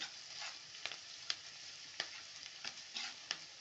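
A ladle stirring brinjal curry ingredients as they fry in a pan: several sharp scraping knocks in an uneven rhythm over a steady, close sizzle.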